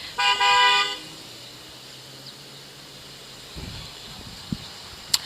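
A car horn honks during a street news report, a short loud toot at the start over steady outdoor traffic hiss, followed by faint street noise and a couple of brief knocks.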